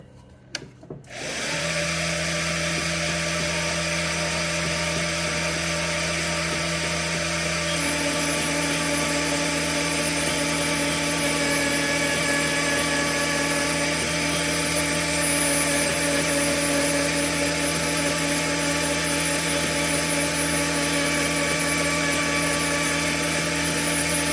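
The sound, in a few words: rose engine lathe motor turning a bowl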